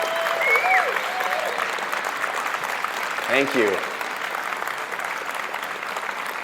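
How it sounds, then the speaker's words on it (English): An event audience claps in a steady, fairly loud round of applause lasting several seconds, with a few whoops early on and a voice speaking briefly in the middle. "let's give them a round of applause"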